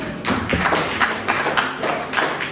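Classmates clap together in a classroom after a math group presentation, with rapid, uneven claps in close, loud bursts across the whole stretch.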